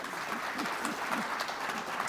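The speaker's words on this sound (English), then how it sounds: "Give them all a round of applause for being here." A conference audience claps steadily, a dense patter of many hands applauding at moderate distance with no voices over it.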